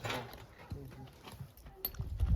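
A pair of draft mares walk with soft, uneven hoof clops over a noisy outdoor background, with scattered thumps and low rumble.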